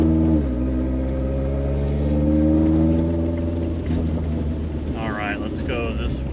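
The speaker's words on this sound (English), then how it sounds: "Again, this is just a stock engine." Stock engine of a Fiat X1/9 with a header drones loudly and steadily from inside the car while driving, its pitch dipping and then holding as the car accelerates, with a few faint voices near the end.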